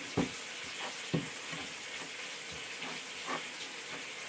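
Almond powder is mixed into apple crumble, giving a run of close, rhythmic stirring scrapes and soft knocks over a low, constant hiss.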